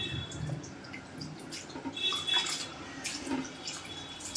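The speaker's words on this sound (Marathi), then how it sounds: "अशी मोकळी करून असं पाणी निथळून घ्यायचं आहे" Water from soaked kurdai, a dried wheat snack, drips and trickles as it drains off, quiet and close, in a sparse stream of small splashes.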